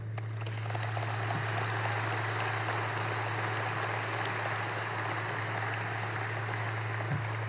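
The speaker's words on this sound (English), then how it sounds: "I would like to ask you for a round of applause for our guests." Applause for guests at an announcement event about a Dassault Falcon facility expansion in Little Rock, a soft, distant, even wash of many hands clapping over a steady low hum.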